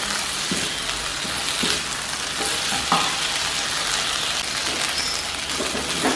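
Chicken 65 frying on a high flame, a loud, close crackling sizzle with occasional stirring scrapes and pops, continuous and unaccompanied by talk.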